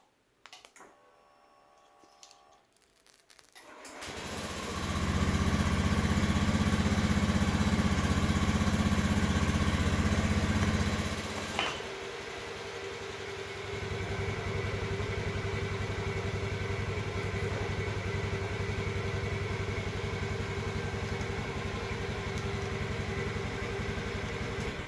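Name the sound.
Honda Beat scooter engine started and idling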